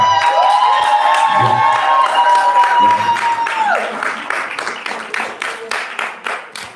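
A comedy festival audience claps and cheers loudly, with a sustained tone at first, then the applause thins into scattered, fading claps.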